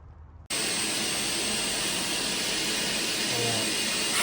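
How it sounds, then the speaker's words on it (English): A shop vacuum switches on after a short quiet moment and runs with a loud, steady whoosh while it sucks crud from the edges of a VW MK7 EA888 Gen 3 engine bay during a cam cover reseal. "I'll vacuum up some of this crud on the edges."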